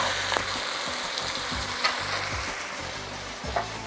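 Softened onion frying in a pan, a steady bright sizzle broken by several low knocks and scrapes as it is stirred.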